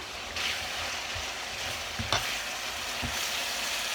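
Potatoes for homemade fries sizzle steadily in hot oil, a dense close frying hiss with a few soft clicks and knocks from the pan, no voices.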